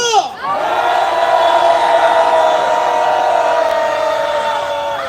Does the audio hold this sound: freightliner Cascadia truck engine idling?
no